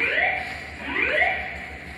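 A building fire alarm at Springfield, Massachusetts Union Station sounds as a repeating electronic whooping sweep, rising tones cycling about once a second, loud and reverberant in the station hall.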